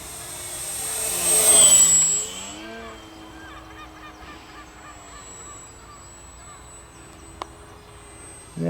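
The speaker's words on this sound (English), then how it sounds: "it's just a lovely flying little plane" A battery-powered FMS Piper J-3 Cub V4 RC model plane zooms past with a rising then falling motor whine in a loud close flyby, then fades to a faint distant drone.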